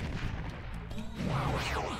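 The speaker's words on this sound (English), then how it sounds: "if I throw it, bunch of explosions." Explosions from a thrown boomerang in Ty the Tasmanian Tiger burst quietly in a rapid cluster, with sweeping, whooshing game effects rising over them.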